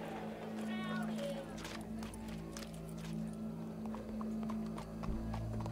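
Horse hooves clip-clop steadily in Red Dead Redemption 2, a rhythmic run of hoofbeats over a busy ambient backdrop with voices murmuring underneath.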